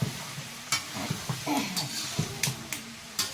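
Chicken meat being sautéed in a pan, with a soft background sizzle broken by repeated spatula scrapes and clanks, faint and fairly close.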